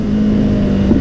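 Kawasaki Z800 four-cylinder motorcycle engine holding a steady, loud, close drone with a constant hum throughout, barely rising at the end.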